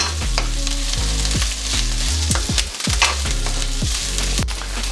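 Upma ingredients fry in a little oil in a pan, a close, loud crackling sizzle broken by repeated scraping and stirring strokes, with no one speaking.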